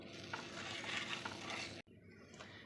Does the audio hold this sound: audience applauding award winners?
no